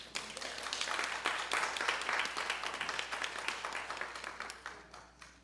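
Audience applause fills a church hall after a stress management presentation, dense and sustained clapping from many hands that gradually thins out toward the end.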